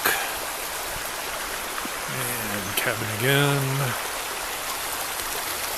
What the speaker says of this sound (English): And that cute little Bertha Creek